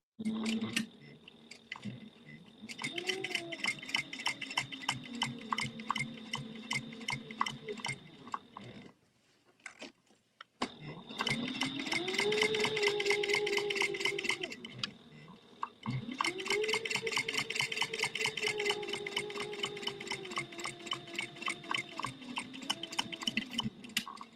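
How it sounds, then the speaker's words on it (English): Home sewing machine top stitching a 1/8-inch seam along a fabric wristlet, a steady rapid needle patter in long runs with a brief pause midway, close and fairly quiet with no talking. "we're going to top stitch like the 1/8 of an inch seam allowance that we normally do"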